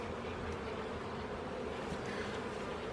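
Honeybees swarm with a steady, close buzzing over an opened hive during a spring inspection, the dense drone holding evenly throughout without pause and with no voices.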